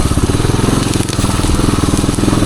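A 1978 Suzuki DR370 dirt bike climbs a small wooded trail hill in second gear, its engine a loud, close, continuous rough chugging with gritty crackle from the ground.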